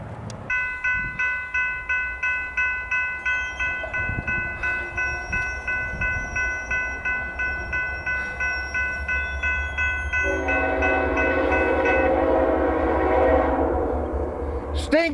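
Intermodal freight train passing: a long, loud multi-tone horn chord sounds throughout while the cars beat out a steady rhythmic clatter, then the horn drops to a lower pitch as the train's rumble swells and fills the end.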